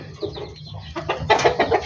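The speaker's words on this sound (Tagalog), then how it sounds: "Ayan yung manok natin isa." A chicken clucks close by in a short series of throaty calls, growing louder and busier toward the end.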